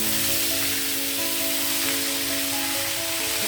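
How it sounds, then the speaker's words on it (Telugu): Tempering spices for dal frying in hot oil, a steady close sizzle with a faint tonal hum running beneath it, loud and unbroken throughout with no talking. "పప్పులోకి ఫ్రై నంచుకోవడానికి పోపులు వేగాయి వేసేస్తున్నాను."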